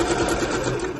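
A sewing machine stitches a bag's fabric lining, running steadily and loudly close by for the whole second with no talk.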